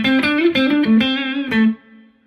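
An electric guitar played through a Boss GT-1000 with distortion and delay, a short run of sustained, overdriven notes picked one after another, ending in a held note that cuts off into a faint trailing echo.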